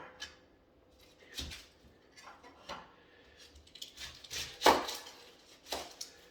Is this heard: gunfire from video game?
no